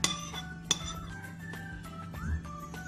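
Glue and borax being mixed in a glass bowl: a few sharp clinks of utensil against glass, with one louder strike near the start, then softer scraping stirs, close and fairly quiet.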